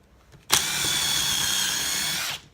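An impact driver fitted with a drill bit whirs loudly and steadily for nearly two seconds, starting abruptly after a brief quiet lead-in and stopping sharply.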